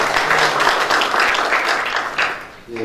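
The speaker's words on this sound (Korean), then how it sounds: "큰 박수 부탁드립니다" Loud, dense clapping from a crowd at a policy debate forum filling a short stretch, dipping briefly near the end before picking up again.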